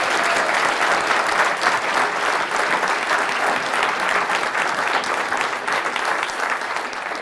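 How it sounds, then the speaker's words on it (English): A large audience at a political liberty forum breaks into loud, continuous applause, a thick, even roar of clapping lasting several seconds without speech. "another round of applause."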